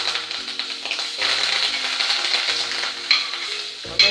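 Butter sauce for baked macaroni and cheese is whisked in a pan, producing a continuous swishing, scraping stir over a soft sizzle. Close and fairly loud, with no talking.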